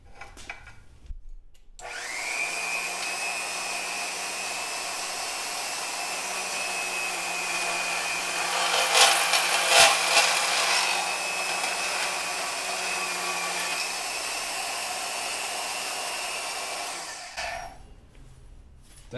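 A portable bandsaw in a vertical stand, run at low speed, cuts through a steel piece with a bolt welded into it, giving a steady loud whining grind for about fifteen seconds that swells briefly midway, then stops, with no talking.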